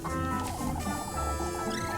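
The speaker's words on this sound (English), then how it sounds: "this chicken is just pushing me around mid-dialogue" A chicken clucks in the video game Little Goody Two Shoes, short fowl calls layered over a steady background music bed at moderate volume.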